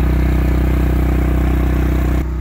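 A generator rumbles steadily inside a homemade quiet-box enclosure, a muffled, even low drone with a regular pulsing hum, running close and loud until a slight drop near the end.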